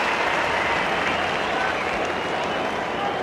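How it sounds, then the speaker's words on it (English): A big cricket crowd at the MCG cheers and applauds during an Australia versus South Africa match, a dense, steady roar of clapping and cheering that stays loud and sustained throughout. "Big cheer from the crowd behind him"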